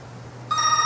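A telephone bell starts ringing abruptly midway, a loud close trill over a quiet room with a low hum underneath, with no voices.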